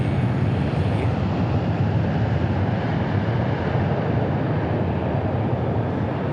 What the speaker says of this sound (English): I did not see this A321, but it's fired up, rolling down the runway